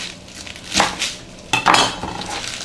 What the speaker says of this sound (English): for the leaf, I'm just gonna cut it in half